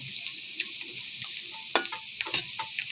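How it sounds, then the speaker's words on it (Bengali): Potato pieces fry over low heat in a pan, a steady bright sizzle with a few sharp scraping clicks as a spatula turns and stirs them. "অল্প জালে সুন্দর করে আমি চুলায় আলুগুলাকে সুন্দর করে ভেজে নিচ্ছি"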